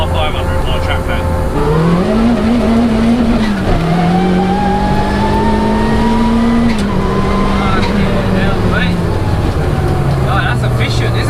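A 340bhp turbocharged Peugeot 106 accelerating hard in first gear with wheelspin, its loud engine note climbing and holding high over steady tyre roar, with voices talking over the noise.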